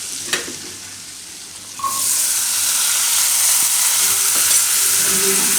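Sweet corn kernels hit hot melted butter in a pan with a sudden loud sizzle that settles into a steady, close frying hiss, with a few light stirring scrapes.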